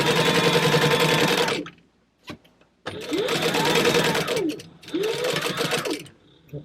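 Sewing machine top stitching a bag, with three bursts of rapid close whirring separated by short pauses, the motor speeding up and slowing down at each start and stop.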